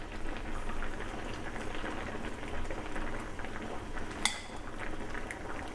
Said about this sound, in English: So this has been boiling for about a good 5 minutes.